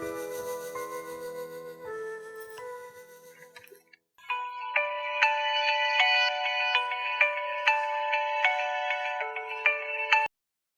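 An outgoing phone call rings while waiting for an answer, first a looping melodic ringback tone, then a brighter repeating ringtone pattern with regular pulses, steady and clear with no talking.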